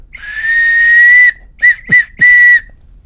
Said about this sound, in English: You've got your whistle. So here's the tone on that.